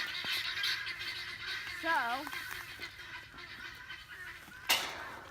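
Guinea fowl calling on a homestead: a short honking, wavering call in the middle, under steady outdoor noise, with a person speaking at the start and a sharp knock near the end.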